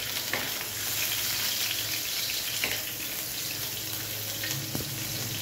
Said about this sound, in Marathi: तूप गरम झालं मी त्याच्यामध्ये मिरची कापलेली